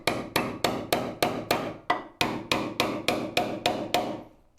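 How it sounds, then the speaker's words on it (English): A steady run of sharp hammer blows on nails while building a Shaker Enfield cabinet, about a dozen evenly spaced strikes, close and loud, each ringing briefly before the next. "it's ironic that I'm nailing stuff"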